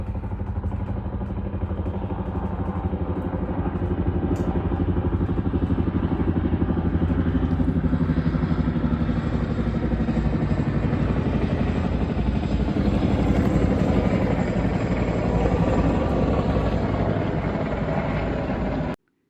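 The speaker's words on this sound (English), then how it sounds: "helicopters going back and forth from the army base to who knows where until like 1 a.m." A helicopter flying over at night drones steadily overhead, its rotor thumping in a continuous low rumble that stays loud and unbroken, then cuts off abruptly.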